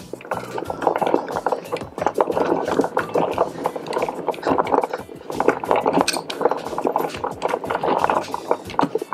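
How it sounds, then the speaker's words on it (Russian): A Ridge Monkey hand-cranked boilie crusher grinds a hopper full of boilies, giving a steady, close crunching and rattling that pulses with each turn of the handle, with no talk over it. "Достаточно легко молоть этой"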